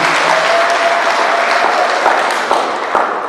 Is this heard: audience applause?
yes